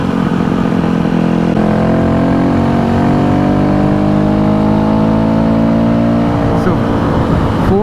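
A Yamaha WR250F dirt bike engine held at steady throttle on the road, a loud, continuous buzzing drone with shifting pitch as the revs change, close up throughout.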